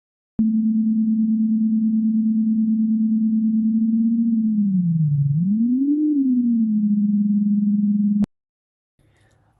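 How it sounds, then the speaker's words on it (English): Clean, steady sine wave tone from a software oscillator synth built in Unity, a loud continuous hum that dips and rises in pitch briefly before holding steady and cutting off abruptly. "you will find a very clean sine wave sound"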